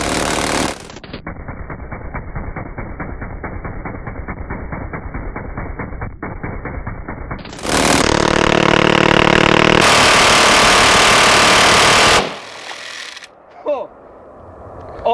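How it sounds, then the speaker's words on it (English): Minigun with its motor spun up fires at a stack of cast iron skillets outdoors, a loud continuous mechanical buzz for several seconds followed by a roaring blast of full-power fire, then quieter aftermath. "Okay, motor's on. All right, fire in the hole, Jasper."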